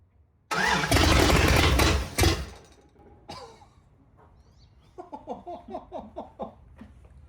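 A 408 stroker engine in a shop truck cranks and fires up for the first time with a loud burst, sputters, then settles as people talk and laugh excitedly nearby.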